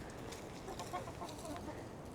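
Backyard chickens clucking softly as they peck at arugula, a steady low murmur of short, close clucks with a few brighter calls over a faint outdoor background.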